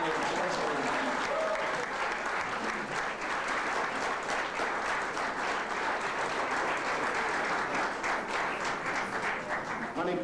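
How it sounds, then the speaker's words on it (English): A museum audience gives a dense, even round of applause, steady clapping with a faint crowd murmur underneath, lasting about ten seconds without a break. "I really want to give a robust and hearty round of applause in honor of Joyce Greene."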